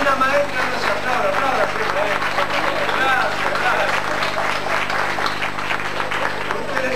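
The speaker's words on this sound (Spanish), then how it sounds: "Y una maestra nos aplaude" Sustained applause at a school poetry contest, steady dense clapping throughout that stays fairly loud, mixed with crowd babble and a faint voice.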